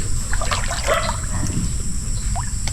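Spring water trickles from under a bamboo grove, a light, steady gurgling dribble close by with small splashes, outdoors in a quiet rural spot.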